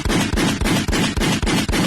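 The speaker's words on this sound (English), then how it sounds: "Gunshots." Rapid, evenly spaced gunshots boom in a loud, relentless rhythm, about four blasts per second with no pause.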